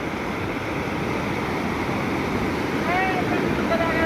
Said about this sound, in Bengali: এখন দেখো জলগুলো কি অবস্থায় ঢুকছে